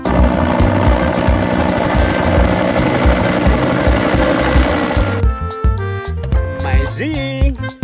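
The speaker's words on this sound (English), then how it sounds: "helicopter." A loud, close toy helicopter with a rapid rhythmic rotor chop that drops away near the end, giving way to tonal whines and mechanical sounds.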